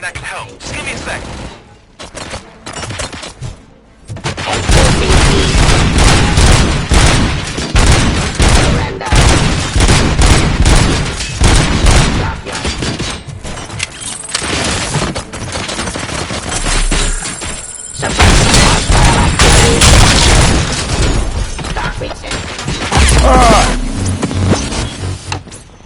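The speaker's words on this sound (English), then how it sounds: "Gunshots? What's going on?" Gunfire in the video game RoboCop: Rogue City, a loud sustained fusillade of rapid shots and mechanical clatter running through most of the stretch after a quieter opening, with voices briefly heard.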